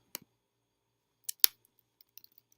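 A few sharp, quiet mouse clicks on the lock icon in macOS System Preferences, a single click then a close pair about a second later, followed by faint ticks in an otherwise silent room.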